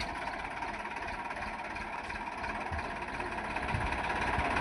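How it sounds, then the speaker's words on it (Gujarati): A loaded farm tractor's diesel engine runs steadily at a low idle with a continuous rumble and a slight swell toward the end. "હવે જો ટ્રેક્ટર શરૂ કરે છે"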